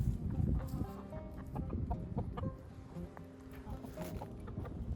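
Several chickens and a rooster cluck and murmur close by in a continuous, busy chorus in a garden, with a low background rumble underneath.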